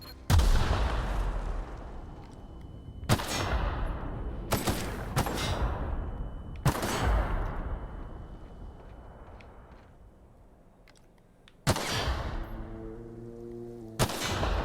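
Mines exploding in The Outer Worlds video game. Several loud, sharp booms go off at irregular intervals, each followed by a long rumbling decay. A brief voice is heard near the end.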